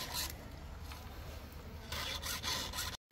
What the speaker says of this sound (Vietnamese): Chú mình đang giũa cây cưa để chuẩn bị leo lên cây nha